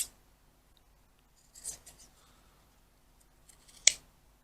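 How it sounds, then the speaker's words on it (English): A couple of quick snips of scissors cutting the corners of fabric for a small make-up bag, close and soft, separated by near silence. "Cut your corners with some decent scissors"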